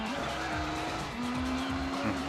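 Race cars in Gran Turismo 4 roar with sustained engine tones while tires squeal through a drift, the engine pitch sliding up and down in a loud, continuous stream.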